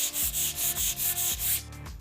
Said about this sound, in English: So we take 400 grit sandpaper.